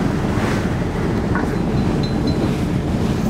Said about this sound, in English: We've had some choppy water.